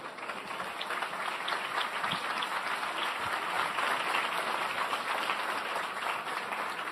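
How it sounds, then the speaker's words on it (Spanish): Sustained, dense applause from an audience at a business chamber assembly fills the room steadily, loud and continuous throughout with no speech over it. "Un fuerte aplauso."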